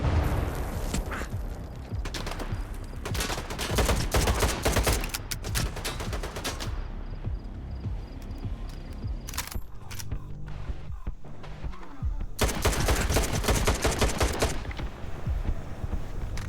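Dense bursts of rapid gunfire in the video game S.T.A.L.K.E.R. 2, automatic rattles mixed with single shots and mechanical clicks, pausing briefly before another loud volley.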